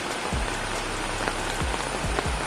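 Steady rain patters on a surface during outdoor cooking of a Kerala-style fish fry, making a close, continuous hiss with a few heavier low thumps.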